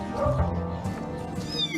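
Cats meowing at a sterilization clinic, a close, loud meow with a drawn-out caterwauling tone and a second cry following over a short stretch.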